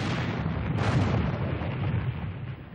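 The big gun of a battleship such as HMS Dreadnought fires with a heavy, rumbling boom that swells and rolls on for a couple of seconds, loud and alone.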